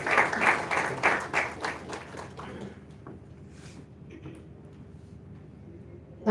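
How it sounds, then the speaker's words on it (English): Applause for players and organizers at a football club jersey unveiling, a burst of clapping that is strongest at first and thins out after about three seconds, leaving scattered claps and low room noise. "And a round of applause for all the players and the organizers."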